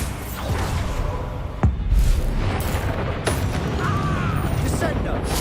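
Confringo and Bombarda spell blasts in the Hogwarts Legacy video game, deep booming explosions and rumbling impacts layered with clanks, loud and dense, with a voice calling out in spoken bursts over them.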